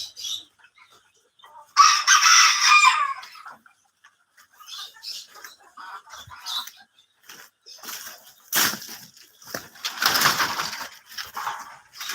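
Chickens on a farm with roomy runs: a rooster's crow and several bursts of clucking and squawking come in irregular spurts, separated by quiet gaps, fairly close and loud.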